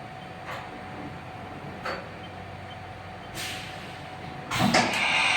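An Akira Seiki SV 2060 CNC vertical machining center performs a tool change: a few brief hisses and mechanical clunks over a steady machine hum, ending in a louder burst of air and clatter, with no voices.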